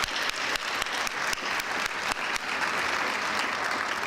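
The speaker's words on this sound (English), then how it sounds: "I think she deserves a round of applause." Audience at an education awards event breaking into applause, a dense, sustained clatter of many hands clapping with a few louder claps cutting through, continuing steadily without talk.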